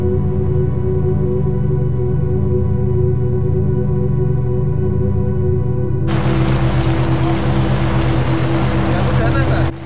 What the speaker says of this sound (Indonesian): kegiatan ekskavasi di hari ke-6 ini sempat terhenti beberapa lama akibat hujan deras yang turun tiba-tiba